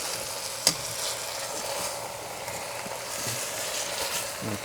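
Beef for a Persian roast fries in a pan with a continuous close hiss and crackle, joined by a brief clank early on.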